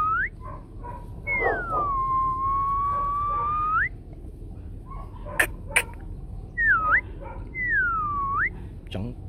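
A white fluffy Bac Ha puppy gives long, drawn-out high whimpers and a few shorter yips, close and clear, with brief taps and a person talking faintly in the background.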